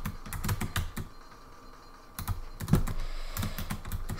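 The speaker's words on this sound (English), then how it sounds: "my keyboard clicking, it's gonna have to be just like that" A computer keyboard clicks in irregular bursts of close, crisp keystrokes during Portal gameplay, with short pauses between flurries.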